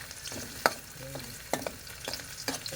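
Sliced ginger sizzles and crackles in a hot pan, with sharp stirring clinks and scrapes standing out over a soft, steady frying hiss, heard close with no voices.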